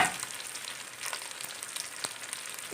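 Chicken frying in hot oil in a pan for chicken macaroni, a close, steady crackling sizzle with scattered sharp pops and occasional stirring, no voices.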